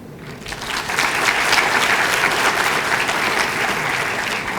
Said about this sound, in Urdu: یہ آپ میرے لیے تالیاں نہ بجائیں